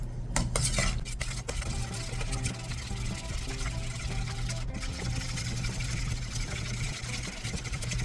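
A spoon stirs a small mixture of granulated sugar, salt and black pepper in a bowl, giving steady scraping and clinking against the dish under a constant low hum, with a few sharper taps near the start.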